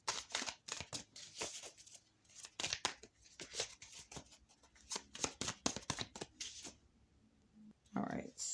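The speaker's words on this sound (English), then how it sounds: "So I finish shuffling off camera" A deck of tarot cards is shuffled close by in quick riffling bursts with short pauses between them, crisp papery flutters and snaps, ending with a softer rustle.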